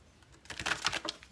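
A short burst of rapid papery flicking and riffling as tarot cards are shuffled, close and soft, lasting under a second with no speech.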